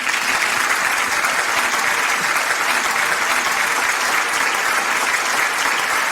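A radio studio audience gives loud, dense applause for a singer, a continuous close roar of clapping that stays level from start to finish.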